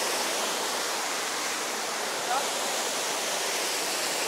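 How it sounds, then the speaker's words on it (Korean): Steady, dense rush of a waterfall, a constant broadband roar with no breaks, fairly loud and close throughout. "폭포야 폭포."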